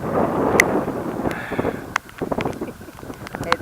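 Strong wind gusts across a hillside trail on the Southern Upland Way in Scotland, buffeting the microphone with a heavy rumbling roar that eases after a couple of seconds, while a voice speaks briefly.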